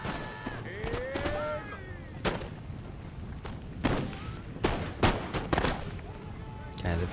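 Musket rank fire volleys from line infantry in the Empire: Total War battle game, heard as a string of sharp, loud cracks and booms spread unevenly over several seconds above a rumbling battlefield bed.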